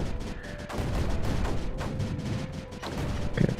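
Cannons and mortars in the strategy game Creeper World 4 fire in a dense, continuous barrage of overlapping booms and blasts, loud and busy throughout.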